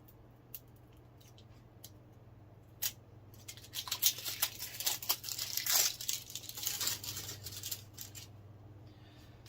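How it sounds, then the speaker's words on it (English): Plastic wrapping is torn and crinkled off a sound bar's power block: scattered sharp crackles at first, then a dense burst of ripping and rustling close by, fading to a few last crinkles. "We'll just take the plastic off this."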